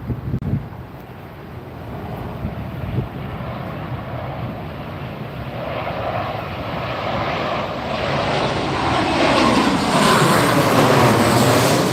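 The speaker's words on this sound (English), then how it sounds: "here comes our next Crosswind approach and landing" Jet airliner on a gusty crosswind approach and landing at Las Vegas airport, a broad engine roar that swells steadily louder over twelve seconds as it nears, with a rising whine on top.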